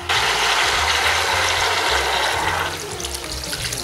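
Water pouring into a cooking pot to cover the ingredients, a loud continuous rushing splash close by that eases slightly near the end, with no talking.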